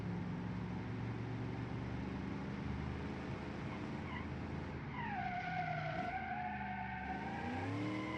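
A 1960s-style sports car in the game Automation understeers under heavy braking, a rising tire squeal sweeping over its steady engine drone during the second half of the run.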